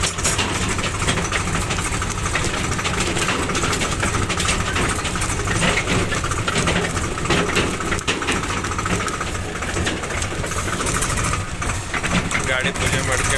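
A Swaraj tractor engine runs steadily with a constant low idle-like rumble during loading work, with a voice speaking over it.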